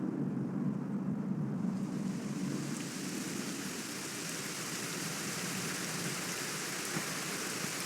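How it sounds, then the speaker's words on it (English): Steady rain falls in the video game Dragon Quest XI, a dense, even hiss close at hand that continues unbroken with no voices. "it was raining like this the last time I ever saw her"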